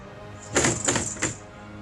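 Several sharp knocks of a foot tapping against a wooden desk, three or four close taps in a quick irregular burst, fairly near and alone without talk.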